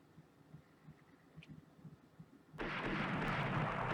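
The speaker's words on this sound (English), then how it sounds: "Why are my friendly ships firing torpedoes in the..." Warships fire torpedoes in the Rule the Waves naval strategy game. Soft, scattered low thumps lead into a sudden loud, sustained rumbling blast halfway through that continues to the end, with no speech.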